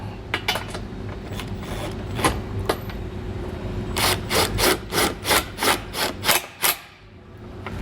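Wrench ratcheting on bolts while fitting a Stealth Hitches hidden rack receiver behind a vehicle bumper: a run of about ten quick, rhythmic clicks following a few scattered scrapes, close against steady background hum.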